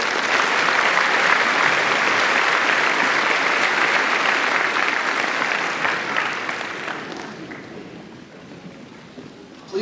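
At the Twin Lakes High School Class of 2026 graduation ceremony, a large indoor crowd applauds in a dense, loud roar of clapping that holds steady and then tapers off near the end.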